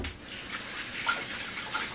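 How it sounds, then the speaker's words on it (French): Water runs steadily from a kitchen tap as hands are rinsed while poached peaches in grape juice are prepared, a close, even hiss with light splashing and no talk. "Je vais me rincer les mains"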